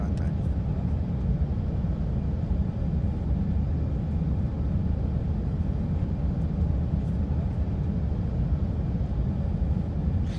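Aircraft engine noise generated by the XP Realistic plugin in the X-Plane flight simulator: a steady, dense, low roaring drone that continues unchanged for about ten seconds without pause.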